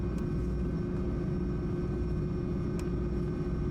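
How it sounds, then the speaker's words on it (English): Turbine engines of a jetfoil boat give a steady, droning low roar with a broad rushing hiss as the vessel nears port. The sound stays even and continuous throughout, with no voices. "Turbine engine noise quiets down as we start to reach our port."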